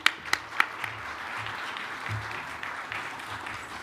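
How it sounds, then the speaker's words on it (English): A round of applause from the audience at a university vice-chancellor installation ceremony, opening with a few sharp, distinct claps and settling into a softer, steady patter of many hands at moderate distance. "A round of applause, ladies and gentlemen."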